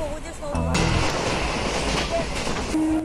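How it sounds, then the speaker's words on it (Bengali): A train rumbles steadily along the rails toward Rampurhat station with a broad, continuous roar, and a few faint tones and voices sit in the background. "তো চলুন আগে ট্রেনের মধ্যে জার্নিটা করি"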